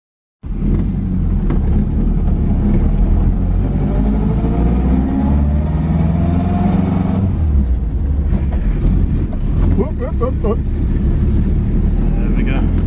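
A classic Ford Anglia E494A drives along a road, its small engine giving a steady, loud rumble with cabin noise throughout and a voice talking briefly near the end.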